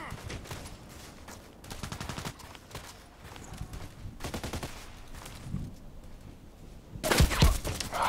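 Gunfire from a sniper-rifle video game comes in repeated rapid bursts and single cracks, mostly moderate in level with a louder burst near the end, set over game background noise.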